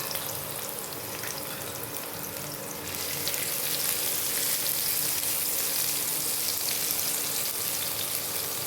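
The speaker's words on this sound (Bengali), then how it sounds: "এখানে কড়াইতে আমি আর অল্প করে একটু তেল দিয়ে দিয়েছি, আর এখানে আদা রসুন কুচিটা দিয়ে দিলাম" Chopped ginger and garlic frying in a little oil in a wok, a steady, close hiss of sizzling that grows louder and brighter partway through and holds without talk.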